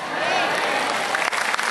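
A congregation at a church Bible study in Lima, Peru claps for someone speaker, a dense, even burst of applause from a nearby crowd that lasts under two seconds.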